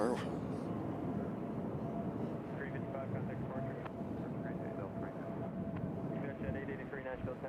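A C-130 aircraft at Nashville International Airport drones with a steady, distant engine roar that holds throughout, with light outdoor noise around it and voices talking over the top.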